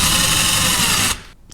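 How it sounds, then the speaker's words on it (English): A power drill bores out a metal ball on a truck antenna, loud and steady for over a second, then stops abruptly, leaving a faint clatter and handling noise. "I think it's about time to get a vise, but I'm gonna drill out this ball."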